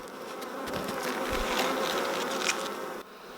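Honey bees buzz around a freshly made two-frame hive split after a queen release, a dense, continuous close-up drone of many insects that cuts off abruptly near the end.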